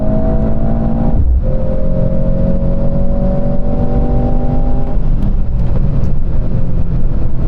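A Mercedes-AMG C63 S E Performance accelerating hard from a standstill, its loud, steady engine note climbing in pitch, dropping briefly at a gear change, then rising again.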